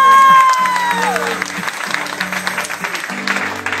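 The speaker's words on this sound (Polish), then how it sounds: "Wielkie brawa." Audience applause fills the hall at a tenth-anniversary jubilee event, loud steady clapping with a brief low musical tone at the start and voices murmuring underneath.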